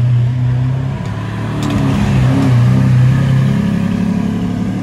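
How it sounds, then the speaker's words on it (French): A Lamborghini loaded with Swarovski diamonds idles and revs nearby, its engine a loud, steady rumble that swells slightly midway, with no talk over it. "La Lamborghini remplie de diamants"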